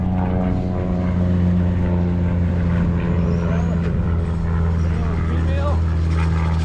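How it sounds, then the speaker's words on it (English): Mail plane with a propeller flying over an automotive swap meet and car corral, a steady droning engine hum with strong low tones, loud and continuous, while people talk nearby. "Can't you tell that's a mail plane?"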